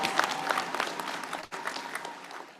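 Audience applause at the Amref International University graduation ceremony: steady, crowded clapping with crisp individual claps, a brief dip midway, then renewed clapping, with no speech on top.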